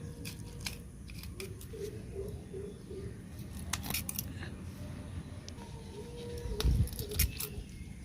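Scissors trim the lower parts of plants in a rooftop vegetable garden, making a series of close, crisp snips spread irregularly through the sound, over faint outdoor background noise.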